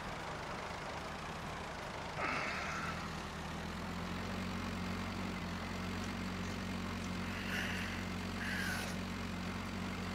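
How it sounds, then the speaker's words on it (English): A small Russian tractor in Farming Simulator 19 putters along in a field, its engine holding a steady low drone throughout, with a couple of brief brighter bursts layered on top; no talk is heard. "Enjoying my little Russian tractor, putting along in the field."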